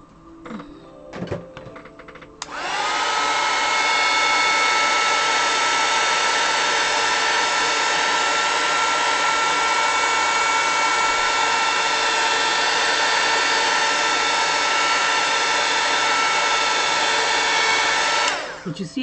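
Heat tool warming a crayon layer on a drawing, a steady loud blowing whir that switches on after a few clattering sounds, runs unbroken for about sixteen seconds, then cuts off.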